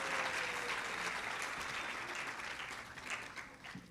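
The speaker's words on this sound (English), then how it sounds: "Let's give another big round of applause to our graduating class" Applause from a graduation audience of parents, family and friends for a graduating class, a steady broad wash of many hands that holds strong before thinning slightly toward the end, with no talk over it.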